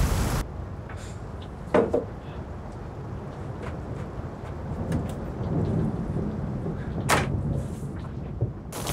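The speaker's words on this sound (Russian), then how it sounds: "Давно такого ливня не было." A heavy rain downpour hisses steadily, close and continuous, broken by several sharp thunder cracks and rumbles, with no talk.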